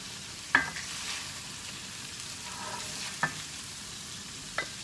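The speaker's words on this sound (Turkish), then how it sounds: "Kıymam da kendi yağında kavruldu." Minced meat frying in its own fat for karnıyarık, a quiet steady sizzle with three brief sharp clinks of a utensil against the pan, close by.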